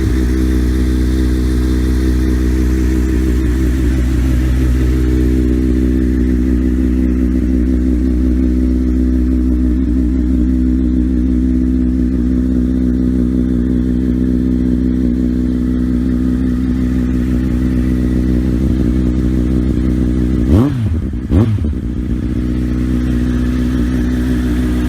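Yamaha XJR 1300 motorcycle engine idling steadily and loud up close, a deep even rumble that holds throughout, with a brief pair of throttle blips near the end.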